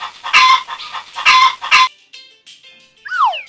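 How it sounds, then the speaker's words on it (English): A hen clucks in several short, loud bursts, followed by a quieter pause and a brief higher squawk at the end. "This is a hen."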